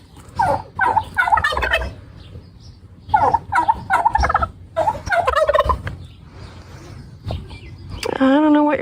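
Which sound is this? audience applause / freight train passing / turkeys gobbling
turkeys gobbling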